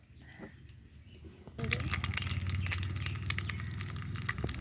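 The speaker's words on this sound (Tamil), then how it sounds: "இப்போ கொஞ்சம் முட்டை ஊற்றிக்கலாம்." Egg is poured into a tiny heated pan with oil while cooking a miniature egg dish. A quiet hiss and sizzle starts suddenly after a faint, low start and holds steadily to the end.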